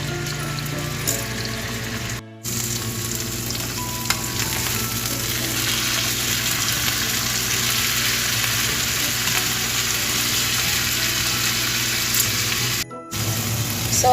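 Chicken breast frying in hot oil in a pan, with a steady, loud, continuous sizzle and crackle close up for the whole stretch and no talking.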